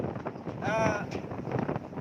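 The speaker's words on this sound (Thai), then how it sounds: "ลมมันแรงนะครับลมมันแรง" Strong wind buffets the microphone from on top of a moving ten-wheel truck, a constant rushing roar with a brief voiced sound rising through it.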